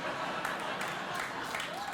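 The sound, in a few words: studio audience applause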